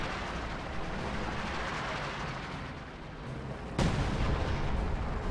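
A Priest artillery barrage pounds an enemy mortar position in a wartime strategy video game, with a dense, rumbling roar of distant shelling followed by one sharp, loud impact near the end.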